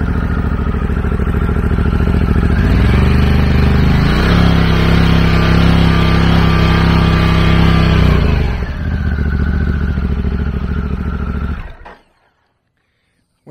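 A 2021 Harley-Davidson Pan America Special motorcycle engine idles loudly up close, revs briefly, then settles back before cutting off abruptly near the end.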